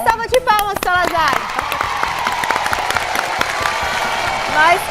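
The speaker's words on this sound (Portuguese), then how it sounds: "Aê, salva de palmas, Salazar" Studio applause and cheering greet a football show presenter at a women's São Paulo championship celebration, a busy crowd sound carrying steadily under overlapping talk and music throughout.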